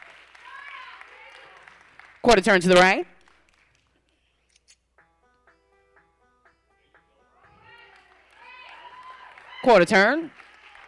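Two short bursts of audience cheering and applause ring out at a natural bodybuilding competition, a Classic Physique symmetry round, each loud and brief, separated by a stretch of announcer talk.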